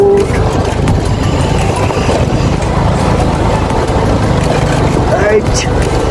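A motorbike rides a narrow, stony trail too small for cars in the Dhorpatan hills. Its engine is a steady, close drone with rough road noise throughout, and a voice seems to speak over it.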